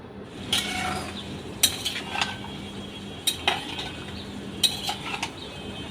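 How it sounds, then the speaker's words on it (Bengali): A spoon stirs radish pieces together with prawns in a cooking pan, producing several sharp metallic clinks and scrapes at irregular intervals over a soft background hiss, close and fairly loud with no talking. "ভালো করে এখন নেড়ে ছেড়ে মূলাটাও কষিয়ে নিচ্ছি চিংড়ি মাছটার সাথে"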